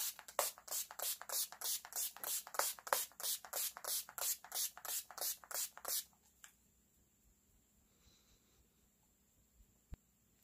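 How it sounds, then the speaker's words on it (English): Rapid series of about sixteen short spray bursts from a pump spray bottle, evenly paced and close, followed by quiet room tone with a faint click. "So I'm just going to spray this all over here."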